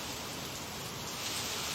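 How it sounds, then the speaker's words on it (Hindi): Continuous rain falls in a steady, even hiss that stays unchanged throughout, quiet and with no voices. "लगातार बारिश हो रही है।"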